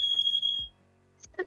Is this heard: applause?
no